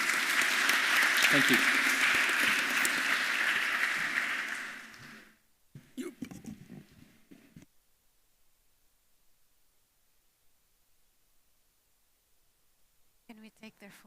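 Loud, dense applause from a conference audience for a food forum panel fills the first five seconds, then stops abruptly. Brief talk and rustling follow, then near silence.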